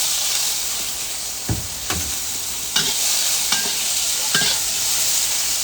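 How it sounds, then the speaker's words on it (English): Beans and rice stir-fry in groundnut oil in a hot wok, a constant loud sizzle broken by several scraping stirs and clatters of the utensil against the pan, with no voices. "I want to stir fry our beans and our rice. So a bit of groundnut oil in."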